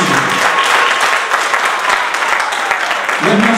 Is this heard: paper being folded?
no